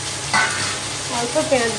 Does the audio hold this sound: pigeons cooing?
no